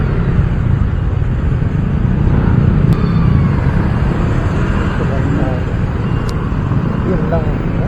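Road traffic with cars and motorcycles passing, heard from a moving motorcycle: a steady loud engine and road rumble with a couple of faint horn-like tones, as someone talks over it.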